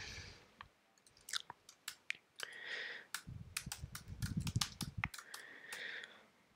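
Keys clacking on a computer keyboard as a discussion topic title is typed, an uneven run of close, crisp taps and clicks in short bursts with small gaps, with no voice.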